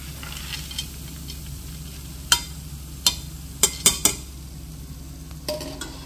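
Roasted gram (pottukadalai) being roasted in a pan, with a quiet background sizzle and several sharp clinks and scrapes of a spoon stirring against the metal, spaced irregularly and alone.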